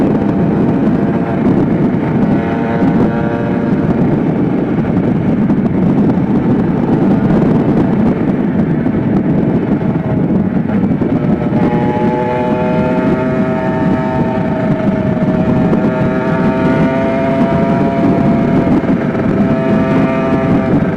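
A Kawasaki Ninja motorcycle engine idling loudly and steadily while warming up, its rumble shifting slightly in pitch as it runs continuously, close to the microphone.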